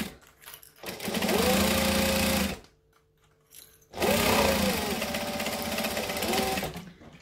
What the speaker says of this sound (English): we're gonna sew up the whole base of the bag right now